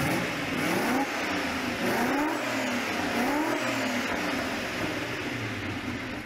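A Pegaso all-aluminium, dry-sumped, quad Weber carbureted, dual overhead cam, 32-valve V8 revs repeatedly, its pitch climbing and falling in several rising sweeps, loud and close with no talk.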